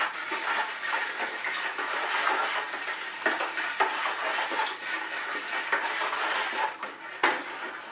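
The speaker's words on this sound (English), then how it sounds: "Sterilized spoon, we'll give it a stir" A sterilized spoon stirring hopped orchard cider in a vessel, repeated scraping and clinking against the sides at an uneven pace, close and moderately loud with a sharper knock near the end, no talking.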